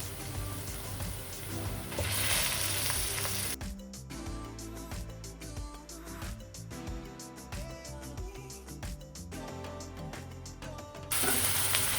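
Chicken sizzles as it fries in a pan with browned onions, a steady crackling hiss with rhythmic stirring and clinks, fairly faint.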